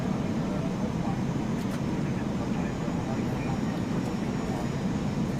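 Airbus A320neo airliner engines in Microsoft Flight Simulator, a steady broadband roar with strong low rumble that holds constant throughout, with speech mixed in.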